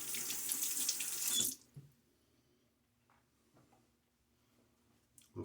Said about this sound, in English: A little splash of water